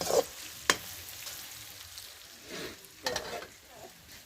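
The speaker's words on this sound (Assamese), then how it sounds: "ধুনীয়াকৈ মাংসটো ফ্ৰাই কৰি লৈছোঁ" Pork meat frying in a pan while it is stirred, giving soft sizzling with a few sharp scraping and crackling bursts at the start and again around three seconds; fairly quiet, with no voices.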